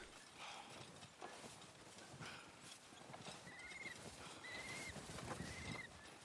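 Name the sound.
horse hooves approaching in Red Dead Redemption 2 video game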